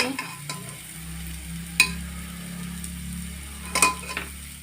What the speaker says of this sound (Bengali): এর মধ্যে ডালিয়া মুগ ডাল দিয়ে দিয়েছি দিয়ে তো লবণ আর হলুদ দিয়ে ভালো করে ভাজা ভাজা করে নেব